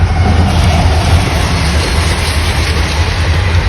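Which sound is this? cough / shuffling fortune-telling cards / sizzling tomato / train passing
train passing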